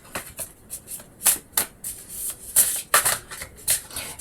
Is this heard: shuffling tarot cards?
yes